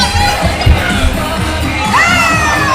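A wrestling crowd cheers loudly, with children shouting and whoops rising over a dense roar of voices that swells and holds close throughout.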